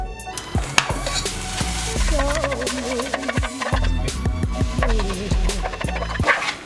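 Minced beef frying in a pan while being stirred and broken up, a constant close sizzle with repeated scraping and knocking of the utensil against the pan.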